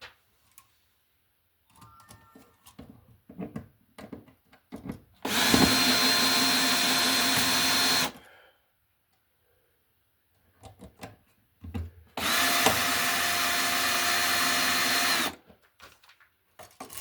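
A power drill drives screws into an electrical outlet box in two loud, steady bursts of about three seconds each, separated by quiet handling clicks and taps.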